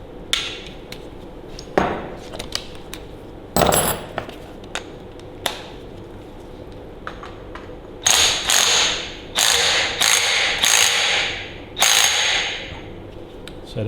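Ratchet socket wrench clicking on a Ferguson TEA20 tractor engine during a rebuild: scattered knocks and taps give way to six bursts of rapid ratcheting clicks, loud and close, with no talking.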